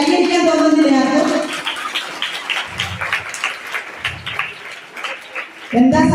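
School children at a government UP school clap in a sustained burst of applause, loud and near, with an adult voice speaking over the start and end.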